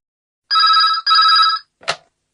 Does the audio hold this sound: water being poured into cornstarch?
no